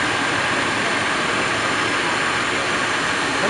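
A 1988 Rolls-Royce Silver Spirit V8 idling, picked up from behind the car at the exhaust: a steady, dense rumble with a broad hiss, constant throughout and with no talking over it.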